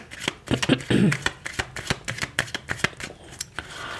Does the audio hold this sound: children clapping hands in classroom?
no